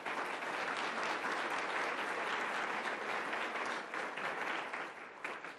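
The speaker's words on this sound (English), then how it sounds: "Let's give them a round of applause." Steady, dense applause from an audience honouring two graduate university students, loud and continuous throughout before easing slightly at the end.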